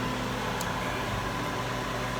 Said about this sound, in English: Boiling down sap from maple syrup.